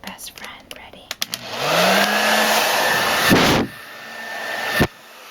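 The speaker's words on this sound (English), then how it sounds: "you're looking at that hair dryer" A household hair dryer starts up after a few light clicks and knocks, blows with a steady close whoosh for about two seconds, then switches off, followed by a short thump.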